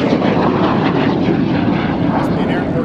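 A B-17 Flying Fortress's piston propeller engines drone loud and steady from inside the aircraft in flight near an airport, a dense, unbroken roar filling the whole stretch, with voices talking underneath.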